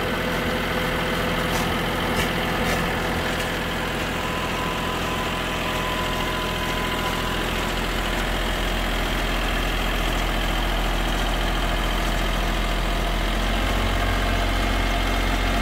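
An IHI IS 30 GX mini excavator idles steadily, its engine holding a lifted concrete mixer off the ground, a continuous close rumble with no voices.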